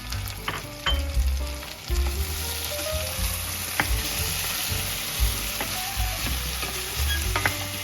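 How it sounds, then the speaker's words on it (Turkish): Potatoes with salt and chili flakes fry loudly in a pan, a steady close sizzle broken by repeated scraping knocks of stirring, with no talk. "tuzuyla pul biberini ekleyip karıştırıyorum."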